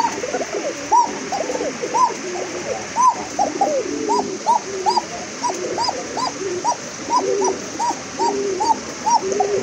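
Repeated cooing calls of a Bashiraj koka pigeon pair, steady rhythmic coos close by, alone with no talking.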